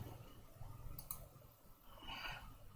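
A couple of small, sharp mouse clicks, close and fairly quiet, separated by a pause over a low background hum, clicking through a software installer.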